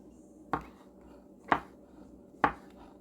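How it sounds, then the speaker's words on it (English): Three evenly spaced knife chops strike a cutting board as vegetables for a burrito filling are cut, crisp and close, with quiet pauses between each. "So you just chop all of these up"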